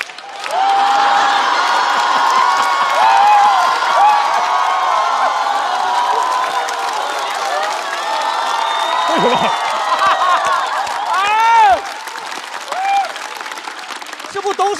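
Audience at a stand-up comedy show bursts into sustained, loud applause with cheering and whoops, holding steady for most of the stretch before easing slightly near the end, with a few shouts poking through.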